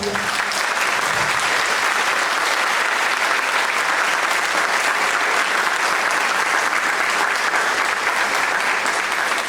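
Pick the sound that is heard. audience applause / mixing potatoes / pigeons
audience applause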